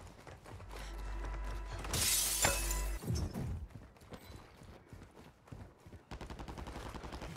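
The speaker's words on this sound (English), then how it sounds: "Gunfire right there, right behind us, right at the house." Gunfire in an online shooter game, scattered sharp shots and a loud burst around the middle near a house, followed by rapid clattering reports, mostly faint against game background sounds.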